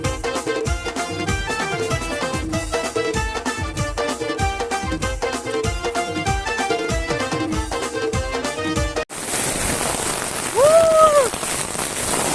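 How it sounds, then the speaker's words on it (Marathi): Heavy rain pouring down and drumming steadily on a surface near a Shahapur farmhouse, loud and continuous throughout, with music playing over the first part and a voice heard near the end. "जाम जोरेन पाऊस आला जाम."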